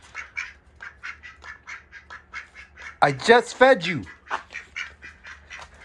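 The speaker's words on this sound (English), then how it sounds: "Duck attack." Ducks quack repeatedly nearby in a busy, overlapping chorus. A louder burst of squawking in the middle rises over the rest, and a person speaks briefly among the calls.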